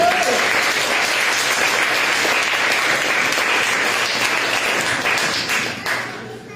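A church congregation claps together in sustained, dense applause that stays loud and even for several seconds before thinning out near the end.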